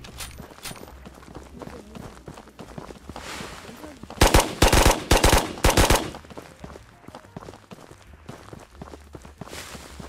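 Gunfire in the Ghost of Tabor VR game comes as a rapid burst of loud shots mid-clip, with footsteps and movement before and after.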